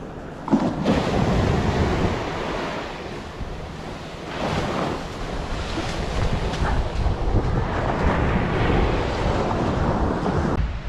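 Steady ocean surf rolling and washing ashore in the morning, loud and continuous with wind buffeting the microphone; no voices.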